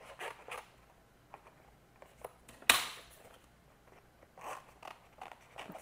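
Scissors trimming paper for a handmade envelope journal: soft, close snips and rustles, quiet overall, with one louder sharp cut partway through.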